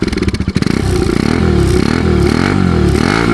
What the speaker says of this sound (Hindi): एक बार इसका एग्जॉस्ट सुनते हैं।